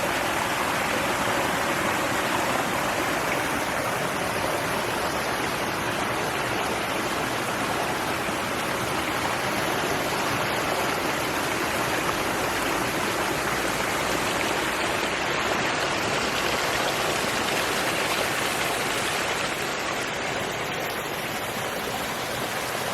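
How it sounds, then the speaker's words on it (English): Loud, continuous splashing and rushing of water pouring over rocks of a constructed drainage waterfall, a dense steady wash close by with no pauses or voices. "The water is running."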